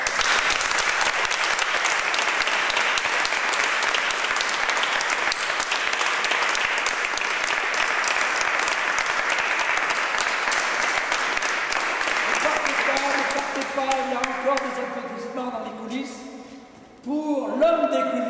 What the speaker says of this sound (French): Je vous demande des applaudissements à la hauteur de leur talent.